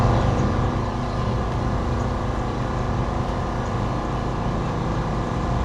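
A Taranzy cordless chainsaw cutting brush gives a steady, loud, close motor drone that holds without a break and with no talk over it.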